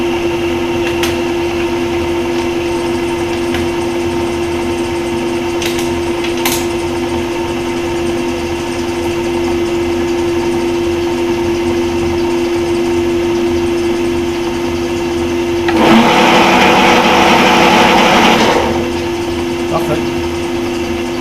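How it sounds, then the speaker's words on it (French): A milling machine cutter runs on a restored dividing head for a mill, a steady high-pitched mechanical whine and hum, close and continuous, with a louder rushing burst near the end. "On va donc mettre en route la fraise."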